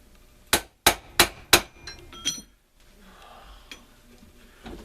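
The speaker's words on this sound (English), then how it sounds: "let me just give it a couple whacks for good luck" A hammer strikes a 1963-1982 Corvette rear bearing assembly four times in quick succession with sharp metallic whacks, followed by a few lighter clinks and then quiet shop background.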